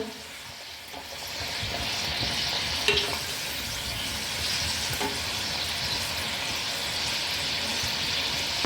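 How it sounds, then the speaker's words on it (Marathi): Kachori deep-frying in oil over a low flame gives a steady, close sizzle and bubbling that runs throughout, with a faint clink or two and no voices. "याकरता मंद आचेवर कचोरी तळून घ्यायची."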